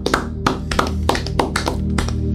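A congregation claps during a radio church service, sharp hand claps landing in a loose, uneven rhythm, loud and close, with no talking over them.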